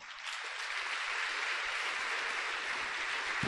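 Congregation applauding at a Catholic liberation prayer service, a soft, distant wash of many hands clapping that rises slightly and holds steady, with no voices over it.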